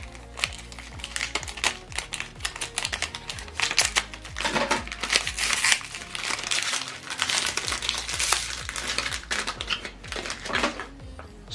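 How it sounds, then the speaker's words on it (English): Plastic film peeled off an HP ink cartridge for a DeskJet 2810e printer, a close, loud stretch of dense crinkling and crackling that carries on throughout with no speech. "so pull off this plastic"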